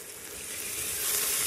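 A tomato dropped into a hot Instant Pot sizzles softly, a faint steady frying hiss that swells slightly over a brief moment with no voices.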